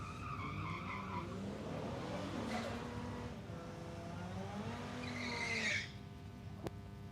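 Drag cars at Palmyra Raceway in Australia, engines droning at a distance with rising and falling pitch, then a louder rev that cuts off sharply.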